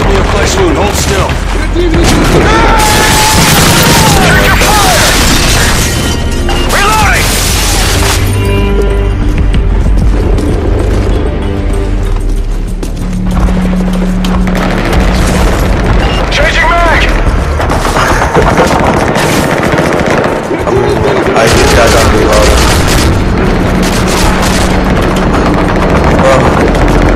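Heavy bomb blasts from enemy air support bombers in Call of Duty: Modern Warfare 3 Spec Ops, loud booming explosions with dense gunfire and rattling bursts throughout, with battlefield chatter mixed in.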